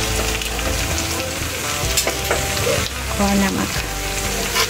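Coriander powder, red chilli and turmeric frying in a pan, with a dense continuous sizzle and occasional scraping stirs, while a voice speaks briefly over it.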